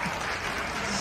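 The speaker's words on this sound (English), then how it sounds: "Give her a big round of applause." Audience applause at a cruise ship stage show aboard Royal Caribbean's Quantum of the Seas, a steady, dense wash of clapping filling the whole moment without a break.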